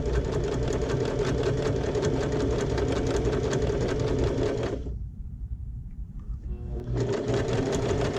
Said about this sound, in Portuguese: Vou costurar toda a volta e fazer no outro canto a mesma coisa.